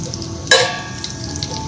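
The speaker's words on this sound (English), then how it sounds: "And I'm going to saute the spices" Spices hit hot ghee mixed with oil in a pan, a sudden loud hiss that settles into a steady, quieter sizzle and crackle.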